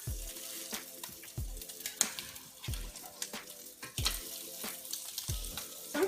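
Crab cakes fry in a pan with a soft, close sizzle, punctuated by repeated low thumps and scrapes as a spatula flips them every second or so; no talking.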